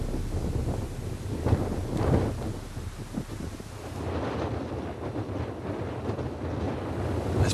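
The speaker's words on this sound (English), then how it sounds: "This bloody wind." Strong wind buffets the microphone of a cyclist riding a bike on a round-the-world tour, a loud continuous roar with gusty swells throughout and no voices.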